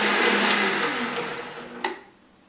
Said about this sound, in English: Now I have a Vitamix, my latest toy.